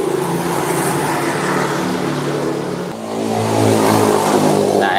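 A motorcycle engine revs through an aftermarket exhaust, giving a steady droning idle that swells into a louder, rising rev near the end, with no talk.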